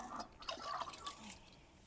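Fertilizer slurry poured gently onto the soil a little away from a plant's roots, making a faint, brief trickling and dripping splash heard up close for under two seconds.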